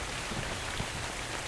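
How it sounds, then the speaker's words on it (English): Steady rain pours down in the video game Dark and Light, a dense, even hiss of drops with no breaks, moderately loud and alone. "Thanks for the rain."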